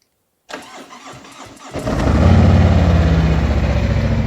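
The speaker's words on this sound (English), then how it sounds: "we're going to go ahead and start the bike up" A Harley-Davidson motorcycle engine cranks briefly after a moment of silence, then catches and settles into a loud, close, steady idle with a rhythmic pulsing throb.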